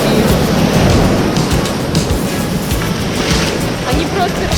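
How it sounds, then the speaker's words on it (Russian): Strong ocean surf crashes and washes continuously on a beach in Goa, a close, loud, unbroken roar with wind buffeting and someone talking faintly over it. "Там такие сегодня волны."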